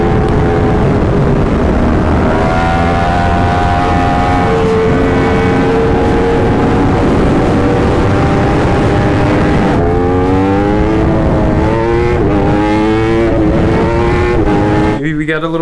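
A 2021 Yamaha R1 sportbike engine accelerates hard at speed, a loud, close, continuous howl whose pitch climbs repeatedly through the gears under a constant rush of wind.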